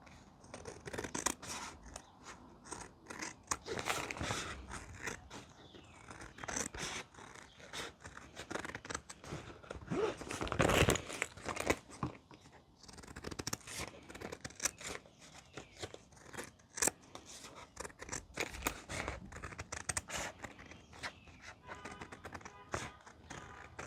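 Scissors trim layered fabric while a bowler bag is being sewn: repeated close snips and crisp cutting crunches in an irregular rhythm, faint against a quiet room.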